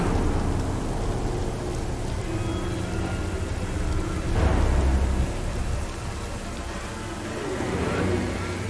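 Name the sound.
heavy rain with thunder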